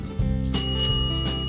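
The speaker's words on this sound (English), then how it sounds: "Bell, check." A bicycle bell rings clearly, a couple of bright metallic dings with the second strike louder, close up and alone with nothing else heard.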